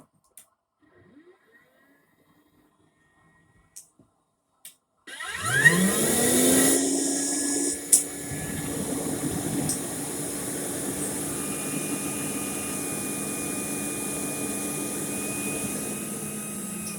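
A Rainbow E-Series vacuum cleaner switches on after near silence with a loud whooshing roar, briefly surges, then settles into a steady, slightly lower motor hum at its second speed, running alone and close by.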